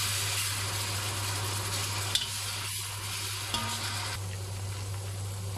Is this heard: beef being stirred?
yes